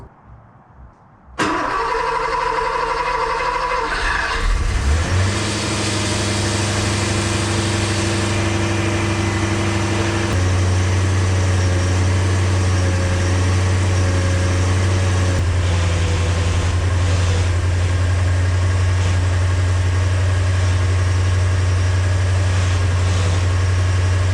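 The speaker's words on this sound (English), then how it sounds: "what you're going to hear is my torque converter bearing" A 1978-1984 Porsche 928 engine cranks and starts, then runs steadily with a persistent whine from a failing torque converter bearing riding over the idle, loud and close.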